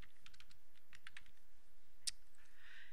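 Soft computer keyboard typing in a spreadsheet, a quick run of light close keystrokes followed by one sharper click, over faint steady background hiss.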